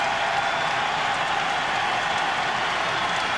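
A crowd at a baseball stadium applauds steadily through a Braves versus Astros playoff game in 2004 as John Smoltz works the 8th inning, a dense unbroken roar of clapping and cheering with no talk.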